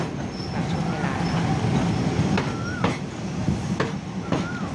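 A train rolls through the Maha Chai market in Samut Sakhon, Thailand, giving a steady close rumble with brief high wheel squeals rising over it several times. No clear talking is heard.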